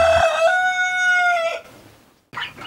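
A rooster crows once inside a chicken shed, a loud, sustained call lasting over a second, followed by a short silence and then a brief burst of clucking.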